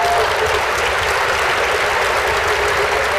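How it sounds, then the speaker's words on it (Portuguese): Audience applause at a Ciro Gomes talk at a university in Juiz de Fora, 2017: a dense, steady wash of clapping from a large crowd, sustained and loud throughout, with no talk. "vou transmitir para ele esse aplauso que eu sei que é para ele"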